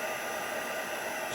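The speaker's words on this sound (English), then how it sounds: "In with the heat gun." Steady airy roar of a heat gun melting embossing powder on a patterned-paper card, close and unbroken throughout the short stretch.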